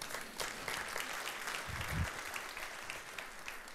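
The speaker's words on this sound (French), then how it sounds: "Si vous applaudissez, applaudissez pour de vrai" Steady audience applause in a church service, a continuous wash of many hands clapping throughout, moderately distant and without speech over it.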